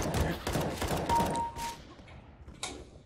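Gunfire in the video game Counter-Strike: Global Offensive, a quick burst of several close shots followed by a few isolated bangs and a final shot as the sound thins out.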